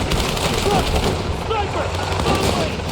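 Dense, continuous gunfire fills a Battlefield 6 combat scene, with rapid automatic bursts layered over booming background fire, loud and close, and a voice speaking over it.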